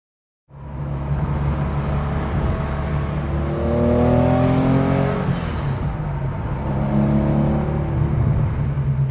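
A 1971 Porsche 911T starts up and drives off, its engine revving up through the gears with rising and falling pitch, loud and close, no talking.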